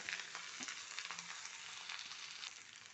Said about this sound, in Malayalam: ഇടയ്ക്ക് ഒന്ന് ഇളക്കി കൊടുക്കുക